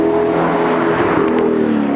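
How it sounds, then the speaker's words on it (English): An Audi R8 fitted with an Armytrix valved exhaust revs hard toward redline, heard from inside the cabin as a loud, continuous, rising engine howl. "Hear what this thing sounds like in the cabin when it hits red line."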